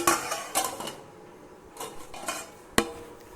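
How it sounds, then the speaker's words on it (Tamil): A metal lid set onto a pot while baking sweet maida biscuits, heard as several sharp clinks and clatters at close range, with a final bright knock near the end. "அடுத்ததாக நம்ம மூடி போட்டு வச்சிடலாம்"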